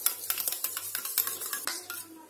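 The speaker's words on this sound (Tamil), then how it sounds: "இந்த மாதிரி கட்டி இல்லாம நல்லா கலந்து வச்சுக்கோங்க." Spoon clinking and scraping against a bowl while custard powder is stirred smooth, a steady run of light metallic taps and swishes, close and alone with no talk.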